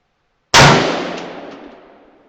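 A single loud rifle shot using cheap bulk ammo, a sharp close crack followed by a long echoing decay that fades over about two seconds in open air.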